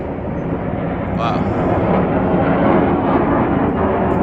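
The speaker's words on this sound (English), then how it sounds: "That's the Top Gun flyby in memory of Val Kilmer, ICEMAN." A military jet roars overhead in a Top Gun memorial flyby, a broad, steady rumble that swells slightly and holds for several seconds under a person talking.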